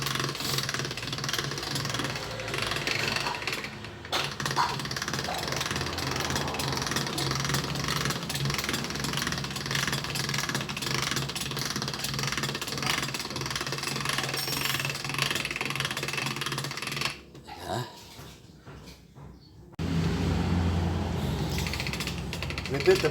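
A handmade biscuit-making machine runs with a steady mechanical drone and rattle, continuous for long stretches, pausing briefly near the end before resuming, with faint voices in the background.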